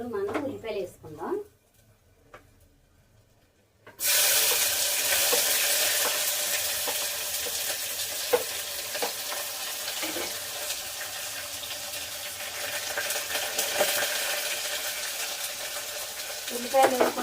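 Onions tipped into about three spoons of hot oil in a home kitchen curry pan start a loud, steady sizzle after a quiet pause, continuing close and unbroken with occasional clinks and stirring.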